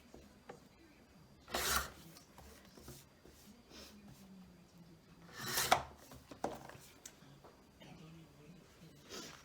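Paper being trimmed for a journal page: two distinct rasping cutting strokes a few seconds apart, close and fairly quiet, over soft handling sounds and low room noise.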